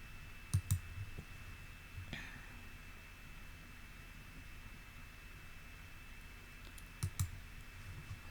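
Computer mouse clicks while navigating a website, a quick pair of sharp clicks near the start, a faint tap in the middle and another close pair near the end, over quiet background hiss.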